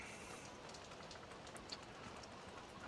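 Steady rain in the Farming Simulator 17 video game falls as a constant, dense patter of drops across the whole stretch, even and unbroken, with a few slightly sharper drips standing out.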